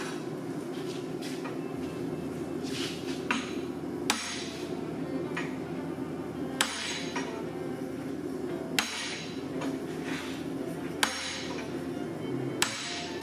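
A hammer forge welds a Damascus steel billet: sharp metallic strikes land every two seconds or so, ringing loud over a constant forge roar and no voices.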